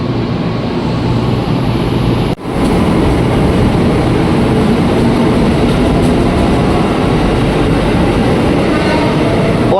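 KRL Inka Transit 5 commuter electric train departing BNI City station toward Karet in Jakarta: a loud, steady rail rumble with a rolling clatter, close by, holding throughout with one brief dip.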